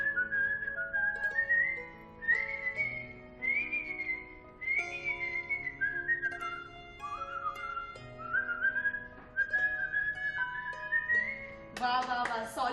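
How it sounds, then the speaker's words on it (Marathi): A man whistles a lively tune alone, the clear, close melody rising and falling in phrases with short pauses between them and no speech over it. "मग मी शिट्टी वाजवण्याचा ध्यास घेतला आणि चमत्कार झाला"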